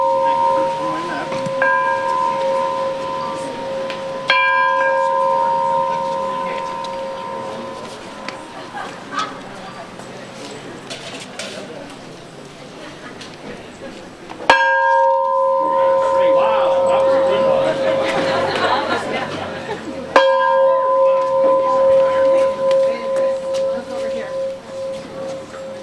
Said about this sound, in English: all you big kids can now come forward and ring the bell